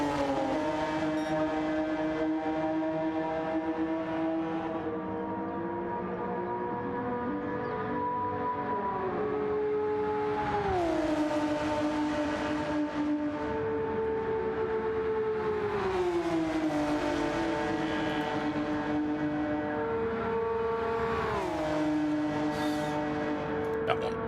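A Honda NSX race car laps the track in Gran Turismo 7. The engine howls continuously and cycles through rising revs and sharp gear shifts again and again, with voices talking faintly beneath it.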